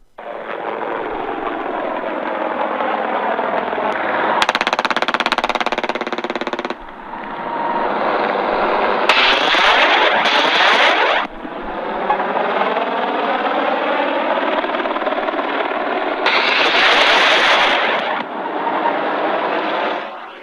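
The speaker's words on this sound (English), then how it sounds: "helicopters were flying all over the prison complex shooting missiles" Steady loud rotor-like engine roar with bursts of sharper, brighter noise at intervals, helicopters flying overhead firing missiles over a prison complex in the video game Arkham City, continuous throughout.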